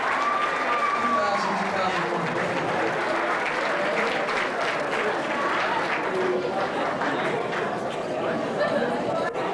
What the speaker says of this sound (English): How about a nice round of applause for our 2 sport captains?